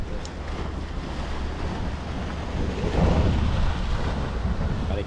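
Strong wind by the sea at a fishing pier in Zambales buffets the microphone with a low rumble, mixed with the wash of waves nearby; no one speaks.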